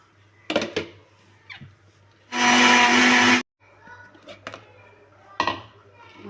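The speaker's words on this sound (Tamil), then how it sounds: "இப்போ இதை மிக்ஸி ஜாரில் சேர்த்து நல்லா பொடி பண்ணி எடுத்துக்கலாம்." A kitchen mixer grinder dry-powders rice for kozhukattai in one loud, harsh whirring burst of about a second, set between lighter knocks and clinks of the jar and utensils.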